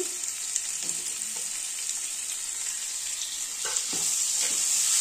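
Potato and chopped onion frying in hot oil for a fish curry, a loud, continuous hissing sizzle close by, with faint scrapes of stirring partway through and no speech.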